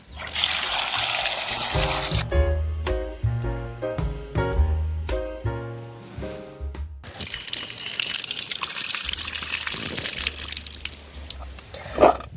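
Indian gooseberries (arinelli) being rinsed in water: a steady run of tap water and splashing, joined by harder hits and handling noises in the middle stretch, close and fairly loud with no talking.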